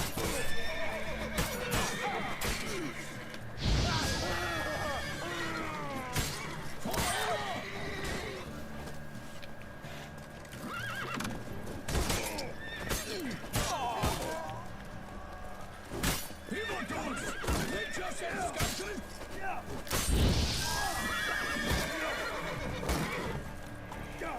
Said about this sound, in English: Horse in the way.